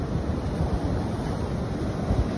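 Ocean surf rolls onto a long beach below hills, a steady broadband wash mixed with wind buffeting the microphone, loud and continuous with no voices.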